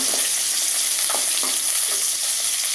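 Sizzling tempering (popu) frying in a pan for a tomato and peanut chutney, a steady bright hiss throughout with occasional soft stirring scrapes, close and continuous with no talking.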